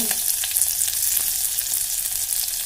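Mustard seeds, cumin, onion and curry leaves sizzle loudly in hot oil, a dense continuous frying hiss with faint crackles and no one talking.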